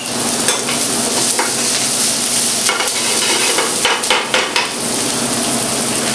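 Chopped garlic goes into a pan of frying okra masala and is stirred, giving a steady loud sizzle with repeated scraping strokes of the spoon against the pan.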